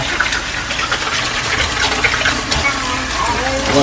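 Tap water gushes steadily into a sink while a pumpkin is washed under it, a loud close splashing flow with uneven sputters and no break.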